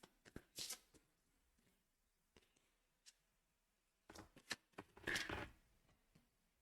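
Oracle cards being shuffled by hand, with soft riffling swishes and flicks in several short bursts, close and fairly quiet, with brief gaps between.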